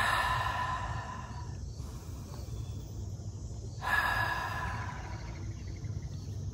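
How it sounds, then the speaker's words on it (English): A deep breath drawn in and let out, close and soft, two broad airy swells with a quieter pause between them, against a low steady outdoor rumble by the water. "Let's take a deep breath in."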